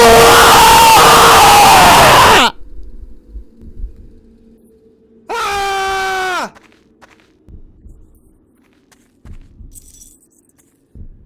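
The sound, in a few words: scream in a horror video game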